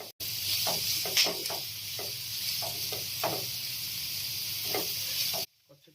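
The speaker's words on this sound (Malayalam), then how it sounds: "ഇനി നമ്മൾ ആദ്യം അരിഞ്ഞു വെച്ച സവാള ഇതിലേക്ക് ഇട്ട് കൊടുത്ത് ചെറുതായി ഒന്ന് വഴറ്റിയെടുക്കണം" Chopped onions sautéing in coconut oil in a pan for a masala omelette, a steady close sizzle with occasional stirring scrapes and clicks, ending abruptly.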